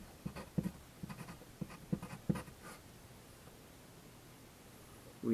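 Marker or pen writing a math equation on a board, a quiet series of short scratchy strokes in irregular rhythm that fade into near silence.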